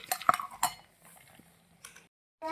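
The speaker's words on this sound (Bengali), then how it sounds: "তাই এটাকে এখন ঢেকে দেবো মাম্মামের কাছে।" A small lid set on a toy cooking pot for a miniature chicken barbecue, a few light metallic clinks and taps nearby, then near silence and one last clink.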